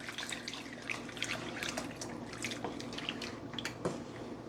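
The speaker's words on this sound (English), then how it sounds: "Now I'm gonna go in and add my coconut milk." Coconut milk pours into a pan of Jamaican-style steamed snapper with vegetables, making a continuous soft liquid trickle and light splashing at close range that stays fairly quiet throughout. No one speaks.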